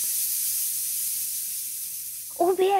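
A continuous bright steam-like hiss, likened to a pressure cooker, runs steadily for over two seconds before cutting off as a voice begins speaking.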